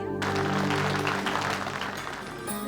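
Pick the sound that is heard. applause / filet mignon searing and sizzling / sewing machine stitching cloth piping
applause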